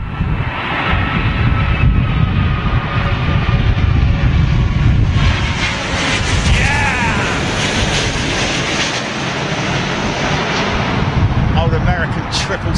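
An American Airlines Boeing 777-200 lands in gusty wind at London Heathrow, its jet engines giving a loud, continuous rumbling roar with a whining tone. Wind noise and murmured voices sit underneath.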